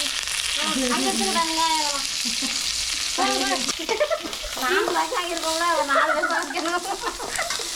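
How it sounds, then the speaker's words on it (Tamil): Fennel seeds and curry leaves crackle and sizzle as they temper in hot oil, a continuous close frying hiss while a person talks over it. "நல்லா சூடாயிடுச்சு தாளிக்க வந்து சோம்பு கருவேப்பிலை சேர்த்துப்போம்"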